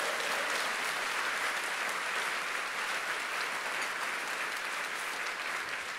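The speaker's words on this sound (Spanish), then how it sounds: "Dar un aplauso fuerte al Señor." A large church congregation claps steadily and loudly throughout, a dense, even wash of applause with no pauses.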